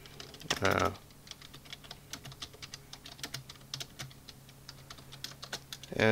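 Keyboard typing for a Minecraft book and quill, a steady run of light clicks for about six seconds with a couple of louder bursts near the start and end.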